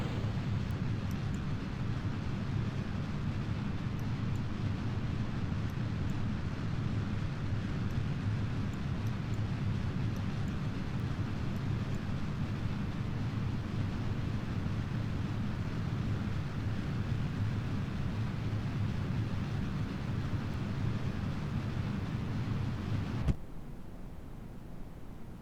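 A rocket engine roars continuously in Kerbal Space Program, a dense, loud rumbling hiss that holds steady for over twenty seconds before cutting abruptly to a quieter bed.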